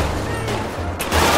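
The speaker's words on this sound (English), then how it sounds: "Oh, who they shooting at? Who they shooting at?" Gunfire in the video game GTA 5, a few sharp distant shots popping over a low steady background hum, brief and fairly faint.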